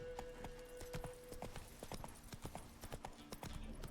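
Hooves of a horse galloping in The Witcher 3: Wild Hunt pound out a fast, steady clip-clop rhythm, close and fairly quiet, over a low background hum.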